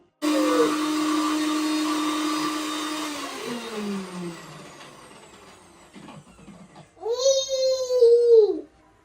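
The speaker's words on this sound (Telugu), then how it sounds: "ఈ రెండు మిక్సీలో వేసి పేస్ట్ చేసుకుంటా." A kitchen mixer grinder whirs steadily for a few seconds blending green chillies into a mint paste and winds down, then a small child cries loudly nearby.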